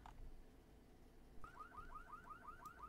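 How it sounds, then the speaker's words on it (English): A car alarm sounds in the zombie survival game Zed Zone: Apocalypse Ahead, a repeating rising electronic whoop starting partway through, fairly faint over a low background hum. "Oh god, we've got another car alarm."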